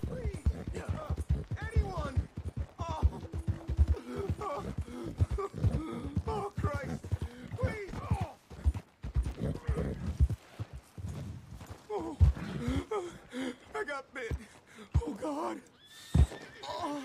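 A horse ridden through the dark at night in Red Dead Redemption 2 whinnies loudly, with irregular clip-clopping hooves and snorts close by, while someone speaks quietly at times.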